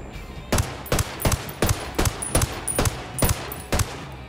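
Ten evenly spaced gunshots from an ACR assault rifle in Ghost Recon Wildlands, fired one at a time in a steady semi-automatic rhythm, sharp and loud, with no talking over them.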